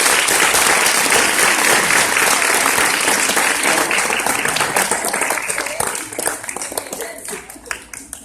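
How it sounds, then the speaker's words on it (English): Sustained applause from an audience at an encore musical performance, honoring the staff, loud and dense at first and then thinning out and fading over several seconds. "Let's give the staff a wonderful round of applause."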